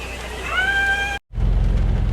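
Steady rain hisses across the whole clip and gets heavier and louder after a brief dropout. A voice talks over it during the first half.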